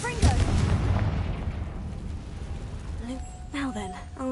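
A Confringo spell explodes in Hogwarts Legacy with a loud, booming blast that rumbles and slowly fades over a few seconds. A voice speaks over the tail of the blast near the end.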